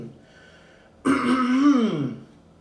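A single loud, drawn-out throat clearing close to the microphone after a moment of quiet.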